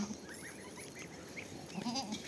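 Goats bleat a few times at moderate distance over a busy outdoor farmyard background, with the calls growing louder toward the end.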